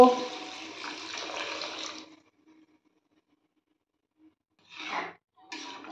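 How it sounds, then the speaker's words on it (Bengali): Water splashes into a pan of cauliflower and potato curry being cooked with prawns, a short steady pour that stops abruptly, followed by near silence and two brief later bursts of sound. "এবার আমি এর মধ্যে পরিমাণ মতো জল দিয়ে দেব।"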